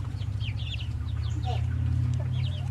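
Young hens raised from store-bought chicks cluck steadily over a low, constant hum, several birds close by and overlapping at moderate volume.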